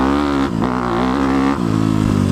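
A 2018 Honda CRF250 big bore dirt bike is ridden on a track, its single-cylinder engine revving loud and close, rising in pitch with gear changes and brief throttle dips.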